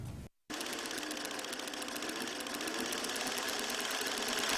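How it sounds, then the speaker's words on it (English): An antique sewing machine hums and chatters steadily at close range, a rapid mechanical stitching rhythm that runs continuously after a brief pause at the start. "With each stitch on this antique sewing machine, Brian Severson hopes to help people feel co"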